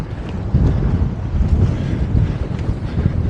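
Strong sea wind buffets the microphone in a steady, loud roar, with low rumbling gusts and faint water movement beneath, no voices.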